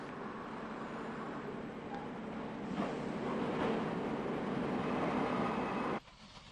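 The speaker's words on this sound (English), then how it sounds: "An AEC railcar set is used on a stopping service to Donabate." An AEC diesel railcar set on a 1950s Irish stopping service to Donabate rumbles past with a steady, loud rolling roar that swells midway, then cuts off sharply near the end, leaving a quieter hum.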